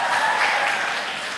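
An audience at a university general lecture gives a short burst of steady clapping, fairly close and moderately loud, with no talking over it.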